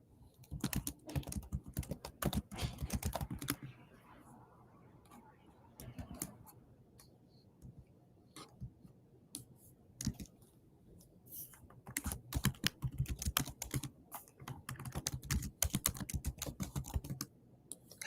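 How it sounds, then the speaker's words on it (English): Rapid typing on a computer keyboard, with dense bursts of clicks near the start and again toward the end separated by a quieter stretch; a person speaks at times over the keystrokes. "It's just my keyboard."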